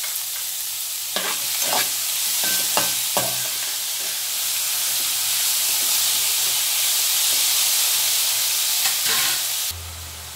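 Cabbage with turmeric and salt fries in a pan, a loud steady hiss of sizzling with several sharp spatula scrapes and taps early on, then the frying continues alone.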